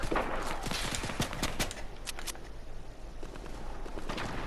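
Video game gunfire crackles in rapid bursts of sharp shots over a busy background, the reports clustered early and continuing sporadically, fairly distant and moderately loud.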